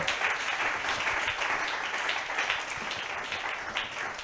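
A church congregation applauds loudly during a worship service, a dense, steady wash of many hands clapping together throughout, filling the space without pause.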